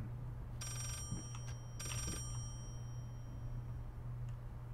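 Telephone ringing in the video game Layers of Fear: two bursts of an old-style bell ring over a low steady hum, fairly faint and some distance away.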